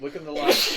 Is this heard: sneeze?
yes